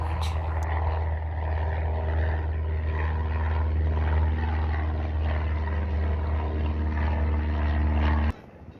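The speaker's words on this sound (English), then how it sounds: "we have the Cessna 172 Skyhawk taking off that's being flown by Singapore Flying College" A Cessna 172 Skyhawk light propeller plane of Singapore Flying College takes off at Jandakot Airport, a steady loud engine drone held for about eight seconds before cutting off abruptly.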